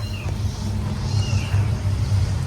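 Cats meowing among household belongings, a few soft mews over a steady low rumble that runs throughout.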